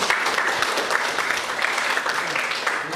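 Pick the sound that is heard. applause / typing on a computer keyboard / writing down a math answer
applause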